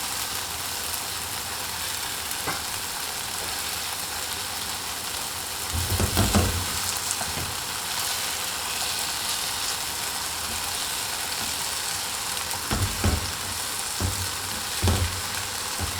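Seasoned eggplant sizzles steadily on a grill, with a few soft low thumps as the pieces are flipped partway through; no talking.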